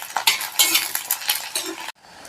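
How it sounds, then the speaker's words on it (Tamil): A utensil scrapes and clinks against a pan in quick, irregular strokes while okra and small shallots sauté in oil for a South Indian okra kuzhambu, with a soft sizzle underneath. "இந்த டைமில் சின்ன வெங்காயம் சேர்த்து வதக்கிக்கலாம்."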